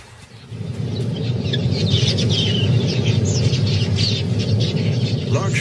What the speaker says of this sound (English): Large flocks of quillias are in the area, searching for seed and grain.